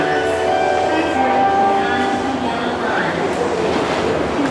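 Steady rumble of a train at a station platform in Japan, with a constant roar and faint tonal hum throughout; voices are faintly audible in the busy background.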